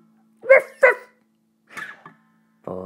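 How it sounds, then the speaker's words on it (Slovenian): Two quick, close barks from a small dog, followed by a softer yip and a brief whimper-like sound, set against an otherwise quiet background with a low steady hum. "Ja sam mali kuži muž, izgubio sam svoju kost."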